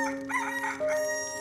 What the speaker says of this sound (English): Peter heard the crow of the rooster